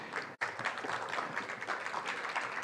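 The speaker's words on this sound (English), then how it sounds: "You can applaud for all of these people." Audience applause for a panel of AI executives and faculty at a premier-level event, a steady wash of many hands clapping at moderate volume with a brief dropout near the start and no talk over it.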